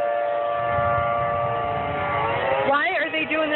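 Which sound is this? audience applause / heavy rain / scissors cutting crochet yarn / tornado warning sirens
tornado warning sirens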